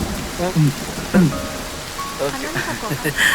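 Steady rain falls through the whole stretch as a soft, even hiss, with voices talking over it at moments.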